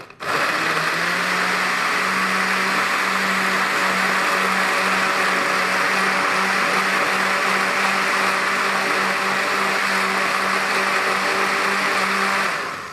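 A kitchen blender whirs steadily for about twelve seconds while blending a smoothie, a loud constant motor hum with a grinding wash over the top and no talk.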